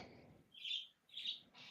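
Birds chirp in two short, bright bursts in the background, quiet and a little distant, with faint low rumble underneath.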